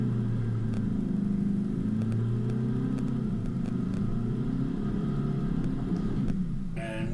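Car engine droning steadily as the vehicle pushes on with momentum after climbing over an obstacle on a wet track at Tallarook, with light ticks and knocks over the hum.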